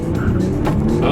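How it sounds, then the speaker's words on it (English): A 2018 Kia Stinger launching from a standstill for a 0 to 60 run, with tires spinning and chirping under a loud, steady engine roar throughout. "A little bit of wheel spin."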